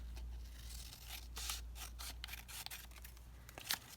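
Scissors cutting around a thin book page, quiet close-up snips and papery rubbing in an irregular run of short strokes against a low background hum.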